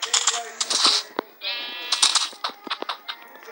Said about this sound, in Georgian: ძალიან ცუდი ცხვარი